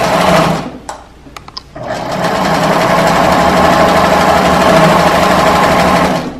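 A home sewing machine stitching fabric, starting with a brief burst, pausing with a few small clicks, then running steadily with a loud, even mechanical whir until the end.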